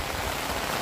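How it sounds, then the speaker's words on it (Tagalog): Heavy rain pours down steadily in a dense, even hiss that fills the whole moment, loud and close with no voices. "Lumakas pa ang ulan."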